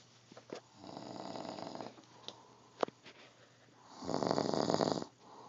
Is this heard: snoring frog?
yes